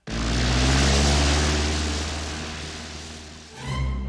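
A propeller airplane roars loudly as it takes off, its engine drone dense and steady before briefly swelling again near the end.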